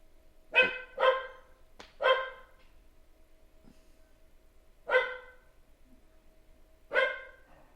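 A dog barks six times in irregular bursts, some in quick pairs, sounding moderately close, with a faint steady hum underneath and no talk.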